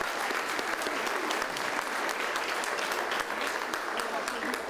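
Warm, steady applause from an audience honouring farmers and entrepreneurs at a rural affairs gathering, a thick wash of many hands clapping continuously at even loudness throughout.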